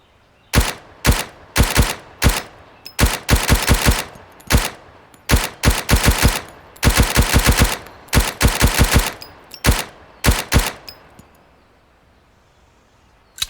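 Bursts of MP5 submachine gun fire in the video game Road To Vostok, loud sharp cracks in rapid runs of several shots with short pauses between, fading to quiet at the end.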